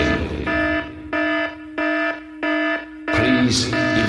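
A fire alarm blares inside a movie theater at the Grand 16 Theater in Lafayette, Louisiana, in four loud, evenly spaced harmonic pulses, with a burst of crowd noise and commotion at the end.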